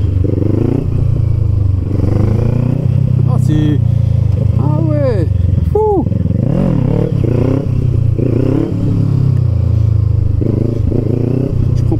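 Kawasaki Ninja 650 A2 motorcycle engine running and revving loudly and close during a wheelie test ride, with pitch rising and falling over a steady rumble, wind buffeting and a voice talking over it.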